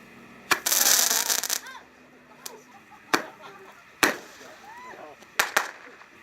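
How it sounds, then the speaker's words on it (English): A Roman candle firework goes off during a safety demonstration, a loud hissing burst followed by several sharp pops and cracks spaced a second or so apart, with voices in between. "this is what could happen if the Roman candle goes off in your hand and goes towards your face"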